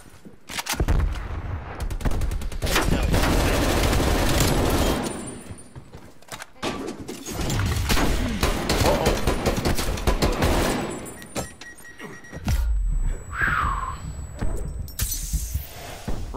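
Video game gunfire from Call of Duty Black Ops Cold War: loud, sustained bursts of automatic fire and rapid shots separated by brief lulls, with clinking and shattering sounds mixed in.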